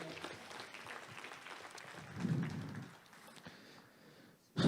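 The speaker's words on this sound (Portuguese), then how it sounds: "Aplauda ao Senhor, erga sua mão como quem recebe." A church congregation applauds in a hall during worship, with a soft, spread-out patter of clapping that swells briefly, then fades, before a louder burst at the end.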